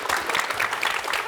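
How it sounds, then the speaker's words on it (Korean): Audience applause at a youth counselling talk show, a dense, even patter of many hands clapping at moderate volume. "박수 한번 주십시오."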